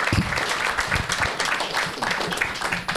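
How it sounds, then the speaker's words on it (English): Steady applause from an audience fills the whole moment, dense continuous clapping at a moderate, even level. "clap our international teacher"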